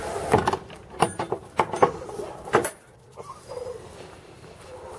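A farm barn door slides shut on a frosty winter day: several sharp knocks and rattles in quick succession, then a softer scraping glide that fades out.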